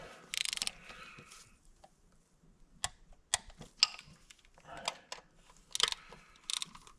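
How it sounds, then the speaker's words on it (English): A hand ratchet clicks in short bursts while tightening oil filter housing bolts on a 3.6 Pentastar engine in a 2014 Caravan, with sharp metallic ticks and pauses between bolts, close and fairly quiet. "we're going to tighten these in sequence to 106 inch-pounds"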